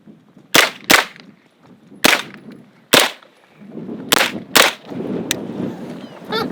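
Seven sharp, loud gunshots fired close by during a shoot/no shoot drill, spaced irregularly: two quick pairs, then single shots, with quiet gaps between them.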